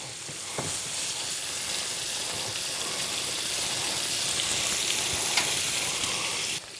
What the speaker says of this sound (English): As you can hear, it's popping, it's sizzling.